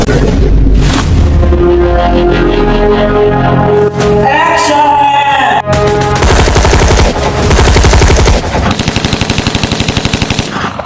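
Rapid bursts of machine-gun fire crackle through a video game battle, loud and dense, mixed with booms and tonal game music throughout.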